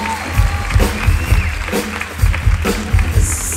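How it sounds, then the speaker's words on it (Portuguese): A concert audience applauds and cheers for the brass section, with loud rhythmic clapping and crowd noise throughout the short stretch. "Aplausos."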